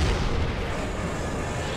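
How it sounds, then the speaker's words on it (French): A tank cannon fires in the game Resistance: Fall of Man, giving a loud, low rumbling boom that holds as a steady roar through the whole short stretch, with no distinct separate shots and no talk. "le canon avec R1"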